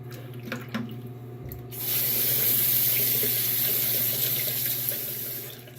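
Tap water runs steadily into a sink while shaving lather is rinsed off during a head shave, starting after a few faint knocks and staying a loud, close, continuous rush.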